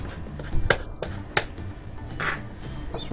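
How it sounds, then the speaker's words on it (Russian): A knife chops vegetables on a cutting board in a few sharp, irregular strikes at close range, with quiet scraping between them. "Тоже нарезаем"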